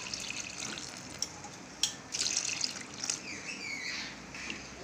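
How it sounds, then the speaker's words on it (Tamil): Water poured from a vessel into rava dosa batter, a soft, fairly faint trickling splash that swells for a few seconds, with no talk. "இப்போ தேவையான அளவு தண்ணி சேர்த்துக்கலாம்."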